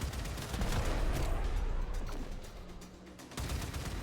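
Missile and cannon fire in the game Warframe, a loud rapid barrage of blasts and rumbling bursts that eases slightly before a fresh volley near the end.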